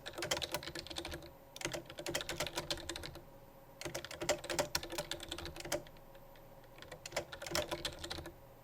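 Rapid clicking of a computer keyboard during a Minecraft play session, typed in several bursts of quick keystrokes separated by short pauses, close and fairly quiet.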